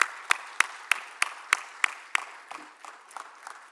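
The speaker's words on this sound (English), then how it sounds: "A big round of applause." Applause from an awards ceremony audience rings out as a string of sharp, evenly spaced claps that fades into a softer, scattered patter toward the end, with no talking over it.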